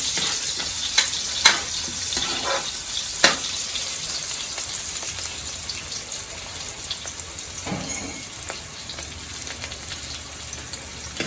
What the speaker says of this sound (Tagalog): Sibuyas at bawang. Igisa natin.